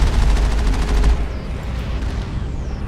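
Automatic defense turret gunfire in the video game Mass Effect, a loud rapid burst of repeated shots lasting about a second, then booming rumble fading out.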